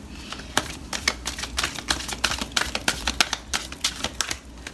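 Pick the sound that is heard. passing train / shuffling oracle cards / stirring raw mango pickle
shuffling oracle cards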